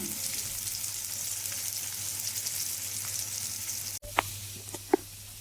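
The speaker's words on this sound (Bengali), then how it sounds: "আলুগুলো তেলের মধ্যে দিয়ে মিডিয়াম টু লো হিটে ভেজে নিচ্ছি" Potatoes fry in oil over medium-low heat for a potato and pointed gourd curry, a soft steady hiss of sizzling with a few faint pops and clicks near the end.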